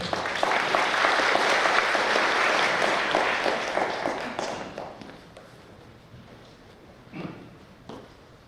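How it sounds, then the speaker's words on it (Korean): An audience at a residents' briefing on a redevelopment project claps steadily, loud and dense at first, then thins out and fades, with a few scattered claps and thumps at the end. "박수로 맞아주십시오."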